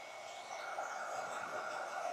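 A hair dryer runs with a steady, even whir, blowing on watercolor paint to dry it, held at close range with no break in the sound.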